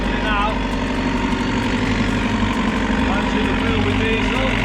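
Digger's diesel engine cranking over and then running after a diesel filter clean, a loud close continuous rumble with a steady idle throughout.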